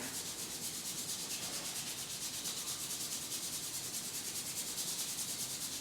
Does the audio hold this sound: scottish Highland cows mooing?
no